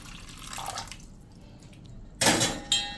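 Lukewarm water for kneading corn flour dough trickles and drips softly at first, then two louder splashy pours land close by near the end.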